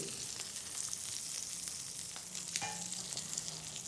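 Burger patty (köfte) frying in a pan, a steady close sizzle running throughout with a few small pops and spatters, no voices over it.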